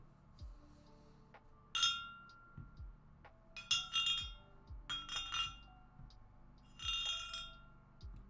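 Small shot glass clinking against the top of a liquor bottle, several separate bright glassy rings in short clusters with pauses between, close and fairly quiet with no talking.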